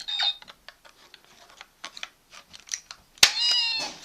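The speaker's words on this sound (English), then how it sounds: "7 is a cat's meow." A cartoonish cat meow from a toy phone rings out near the end, bright and electronic, after a scatter of light clicks and short tones.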